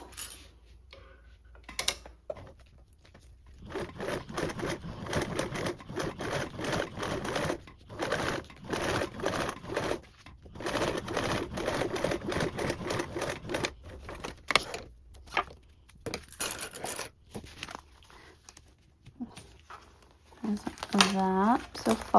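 A sewing machine top-stitches a seam in a fabric craft project, running in repeated bursts of rapid mechanical stitching with short pauses between them, close and clear, with someone talking intermittently over it.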